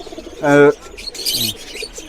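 A pair of Chinese pigeons gives a short, loud call near the mic, followed by softer cooing and scuffling at a local pigeon sale.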